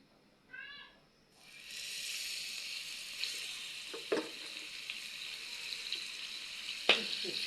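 Spiced fish slid into hot oil bursts into a loud, steady sizzle that settles into continuous frying. A few clinks and light stirring knocks sound over it.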